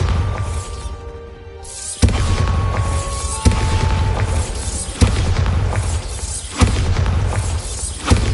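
Spell explosions from Bombarda in the Hogwarts Legacy video game land as four sharp booming blasts at regular intervals, each with a crashing, debris-like tail over a low rumbling game backdrop.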